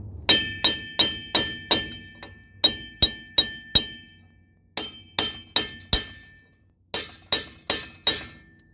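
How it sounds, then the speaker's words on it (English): A hammer taps a steel axle shaft into its splines on a 2007 Dodge 2500: sharp metallic clinks come in quick runs of four to six, with short pauses between groups, close and loud with no talk. "So I'm just gonna tap it a couple times to pinch it in."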